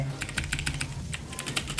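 Rapid typing on a computer keyboard during a Blox Fruits game session, with irregular bursts of crisp key clicks close to the microphone, a few brief pauses between flurries.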